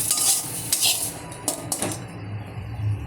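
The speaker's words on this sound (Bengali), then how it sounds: "এই আমি বাটিতে ঢেলে নিলাম।" Ground teasel gourd paste is scraped and poured into a bowl in a home kitchen, with clinking and scraping of utensils against dishware in a few sharp bursts over a low background hum.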